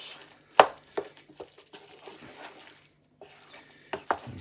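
Cauliflower is mashed with milk in a pot, giving irregular soft wet thumps and squelches with short pauses between strokes.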